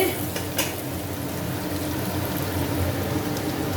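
Spices frying in hot oil for a vegetable biryani give a loud, continuous sizzle with crackling pops and occasional stirring, heard up close with no talk.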